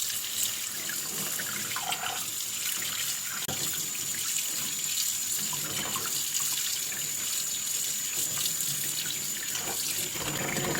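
Tap water runs steadily into a sink while chicken pieces are washed, a constant close splashing rush with faint clinks and no speech.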